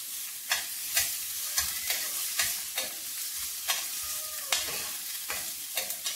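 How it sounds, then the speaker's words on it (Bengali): Onion and garlic stirred and fried in a pan for surba, a wheat soup: steady sizzling broken by regular scraping stirring strokes about every half second, close and clear, with no talking. "পেঁয়াজ রসুন গুলা কিছুক্ষণ নেড়ে ছেড়ে ভেজে নেব"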